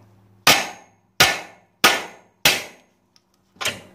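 Hammer striking a steering knuckle casting to release a conical ball joint, five sharp metallic blows with short ringing decay, close and loud, evenly spaced about half a second apart with a brief pause before the last.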